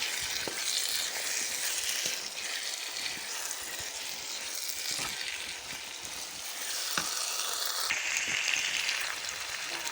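Mixed vegetables with carrots frying on a tawa, making a dense, even hiss of sizzling close up for the whole stretch, with occasional soft taps and scrapes of stirring and no talking.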